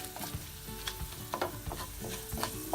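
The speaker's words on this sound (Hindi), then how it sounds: "एक मिनट तक इसको हल्का रोस्ट करना है।" Spices and broken red chili roast in a pan, a close steady sizzle with the soft scrape and tap of stirring every half second or so, no voices.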